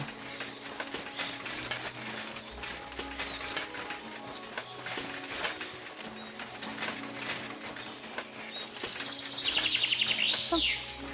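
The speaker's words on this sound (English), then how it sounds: "The music plus the birds chirping." Birdsong chirps through the ambient forest soundscape of the video game Kingdom Come Deliverance 2, steady soft tweets under game music with a brighter burst of rapid chirping near the end, no talk.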